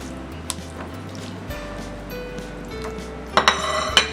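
Marinated chicken for tandoori, coated with a little oil, is mixed in a bowl, with soft squishing under a low hum and a few sharp clinks of a utensil against the dish near the end.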